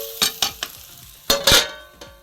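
A tempering of coconut oil, mustard seeds, garlic, urad dal and curry leaves sizzles in a pan, with sharp bursts of crackle and spatter as it is stirred, close and loud, with no talk.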